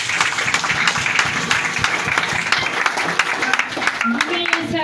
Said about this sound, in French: Applaudissons dans la partie.